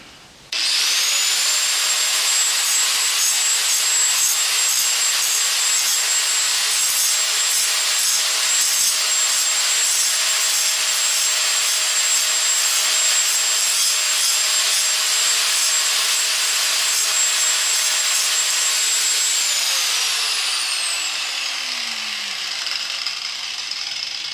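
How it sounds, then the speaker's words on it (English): Flat diamond grinding wheel chamfering an edge in a shop, a loud continuous high-pitched grinding whine held steadily for about twenty seconds, then the motor pitch drops as it spins down. "This is a flat diamond grinding wheel. And we're just going to use the edges to sit down in and then kind of pull back and chamfer it."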